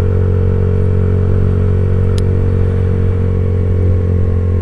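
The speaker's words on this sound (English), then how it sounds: "I ride a Yamaha YZF R125, and I've had it for about 3 years." Yamaha YZF R125 motorcycle engine running with a steady, loud, close drone and a constant mechanical hum, one brief sharp click partway through.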